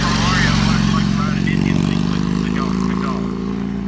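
A 1946 Indian Chief motorcycle rumbles loudly and steadily nearby, its exhaust a continuous throbbing drone that stays strong throughout with little change in pitch.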